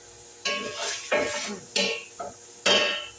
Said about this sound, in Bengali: লাহামটা ভালো করে একটু নাড়াচাড়া করে নিলে মানে লাহামের যে ওদের তেল চলে আসে